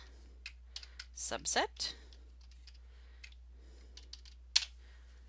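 Quick bursts of typing on a computer keyboard at a desk, clustered clicks followed by sparse single taps and a sharper final key strike, with a person speaking briefly among the keystrokes.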